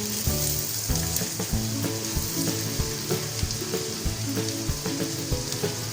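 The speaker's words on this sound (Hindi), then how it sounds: "अनियन से मेरे पास बिल्कुल बारीक डाइस हुआ है वो डालूंगी" Two small, finely diced onions fry in a pan for mac and cheese, a loud, dense sizzle that runs continuously with scattered crackles and a low tonal drone beneath.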